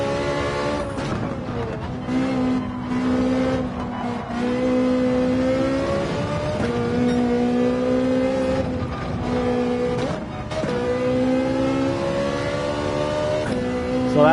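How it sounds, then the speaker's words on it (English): Race car engine in Gran Turismo 7 at Spa, a roughly 800PP endurance racer, droning loudly and steadily with repeated pitch drops and rises as it downshifts for engine braking, continuous throughout with no talk. "That's when you downshift below, downshift lower to help slow down the vehicle."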